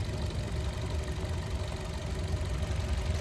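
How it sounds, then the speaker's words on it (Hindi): A Maruti Dzire petrol/CNG engine, just repaired of a cylinder 2 misfire, idles smoothly and evenly at close range, a steady low hum with no hunting or stumbling. "ये देखिए, इंजन बिल्कुल स्मूथ साइलेंट खड़ी है इंजन, कोई हंटिंग कोई मिसिंग नहीं"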